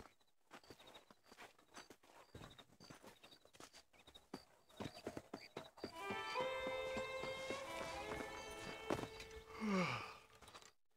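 A horse's hooves clip-clop in Red Dead Redemption, at first as an irregular walking rhythm and then as quicker hoofbeats under tonal game music, ending with a snort.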